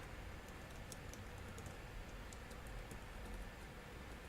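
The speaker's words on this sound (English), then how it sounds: "That's what I'm typing." Keys tapped on a computer keyboard, light quick clicks in an irregular rhythm, faint and steady against a low background hum with no talking.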